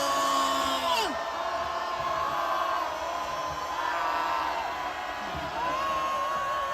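A rally crowd at an anti-impeachment protest in front of the Corruption Investigation Office roars and cheers in a sustained, dense wall of shouting, with an amplified voice and rising whoops carrying over it.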